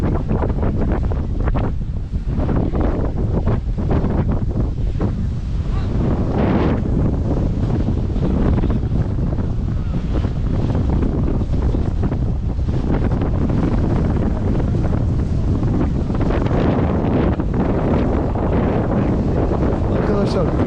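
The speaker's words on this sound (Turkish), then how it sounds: "çok rüzgarlı ve çok dalgalı bir" Strong wind buffets the microphone in a constant roar, with the wash of rough sea waves underneath, on the coast between Patara and Kaş.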